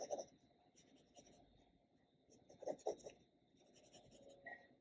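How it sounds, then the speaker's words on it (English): A pencil draws a window freehand on paper without a ruler, making soft, faint scratching strokes in short, uneven bursts with quiet gaps between them. "Now I'm going to draw a window up here without using my ruler, just to show how easy it is without using a ruler."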